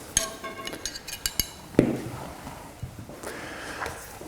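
Metal spatulas and a plastic sampling liner being handled during soil sampling: a series of light clinks, taps and clatters, one sharper knock near the middle, then softer rustling handling noise.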